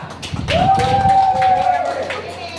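Guests at a first birthday party clap in a busy, close patter while voices and a sustained tone carry over the applause.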